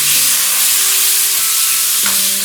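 Tomatoes tipped into a hot pan with turmeric and red chilli, setting off a loud, steady frying sizzle with a brief stirring clatter as they land, heard close and without talk.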